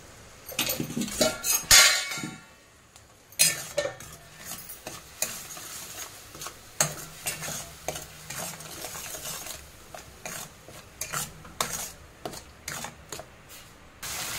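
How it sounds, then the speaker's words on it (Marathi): Spices with salt stir-fried in oil in a pan for a festive Maharashtrian Gudi Padwa dish: steady scraping and clattering of a spoon against the pan in irregular bursts, with a faint sizzle underneath. "तेल सुटेपर्यंत चांगलं परतून घ्यायचं आहे"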